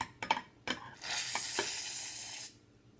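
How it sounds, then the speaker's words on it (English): Butter slime being stirred: a few sticky, wet clicks and squelches up close, then a sustained soft rushing hiss for about a second and a half before it stops. "you'll stir it until it looks normal"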